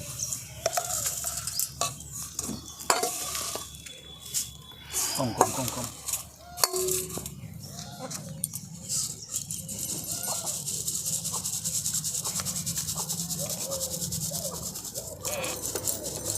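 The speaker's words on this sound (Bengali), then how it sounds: "প্রথমে আমি চিড়েটাকে চেলে নেবো" Flattened rice (chira) shaken in a sieve gives a light, uneven rattling patter of dry flakes, with pauses and occasional clinks, while a voice speaks at times.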